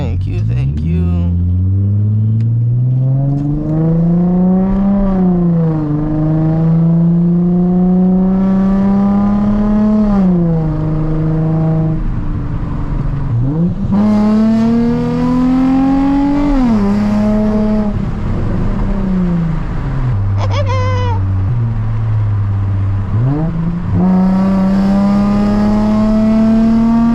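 A Nissan 350Z engine revs up and down repeatedly while driving along the coast, its pitch rising through gear changes and dropping, loud and close throughout.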